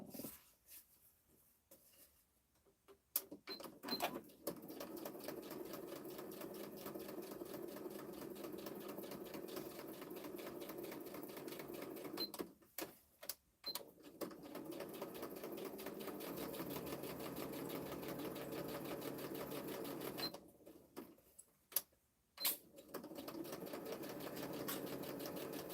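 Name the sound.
sewing machine stitching paper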